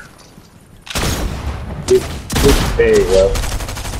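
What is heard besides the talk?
machine gun fire in the video game Fortnite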